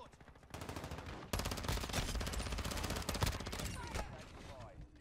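Rapid Call of Duty gunfire crackles in sustained bursts, first quieter and then much louder and denser, with shots close by and echoing in the mix.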